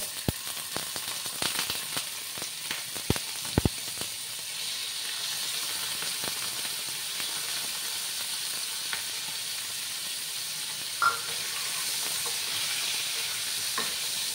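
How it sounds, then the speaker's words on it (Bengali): Paneer pieces fry in hot salted oil in a pan, giving a steady sizzle and hiss throughout, with a few sharp clicks and scrapes of stirring near the start. "পনিরগুলোকে একটু লাল লাল করে আমি ভেজে নেব।"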